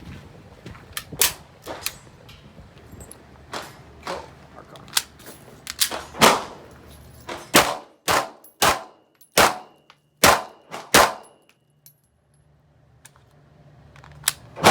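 Archon Type B pistol shots crack out one by one in an uneven series of about fifteen sharp, loud reports, with brief gaps between them and a pause near the end.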